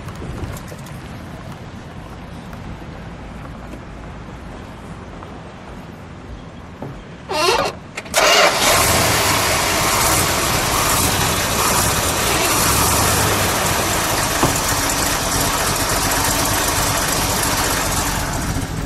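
A 1970 Dodge Challenger T/A with a 340 Six Pak V8 cranks briefly, catches, and settles into a loud, steady, close-up idle that rumbles on alone without speech.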